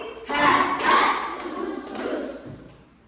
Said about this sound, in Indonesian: Tepuk nyamuk, tepuk angin 2 kali